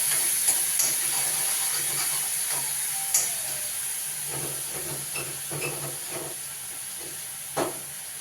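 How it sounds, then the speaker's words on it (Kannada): Hot water poured into avalakki uppittu cooking in a pan, giving a steady steamy hiss and sizzle with faint stirring clicks, no voices. "ಬಿಸಿನೀರು ಸ್ವಲ್ಪ ಆ್ಯಡ್ ಮಾಡೋಣ."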